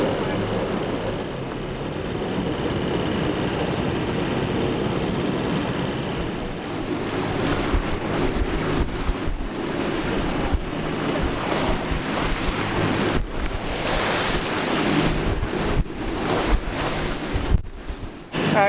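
Gusting wind and breaking waves at sea aboard a sailboat, a loud continuous roar with heavy wind buffeting on the microphone and a steady engine hum underneath.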